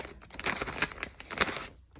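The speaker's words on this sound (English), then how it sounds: "Pardon the rattling paper here." Paper crinkles and rattles in irregular bursts, loud and close, with a few sharper crackles before it tapers off.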